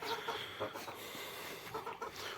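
Geese about two to two and a half months old, kept on a homestead, giving faint clucking and honking calls in short bursts at a distance with no talk.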